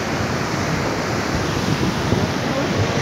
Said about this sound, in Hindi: ये है लाहड़ू की बरसात।